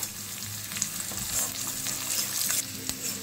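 A tadka of curry leaves and turmeric powder crackles and sizzles in hot oil, a steady close frying hiss with occasional sharp pops and light stirring; no one speaks.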